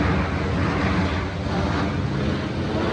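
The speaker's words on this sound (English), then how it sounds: "Alright, so we got an airplane. Oh, look how close that is." A low, broad roar of an airplane passing close overhead outdoors in nature, steady and loud for the whole stretch with a windy, rushing texture and no talk.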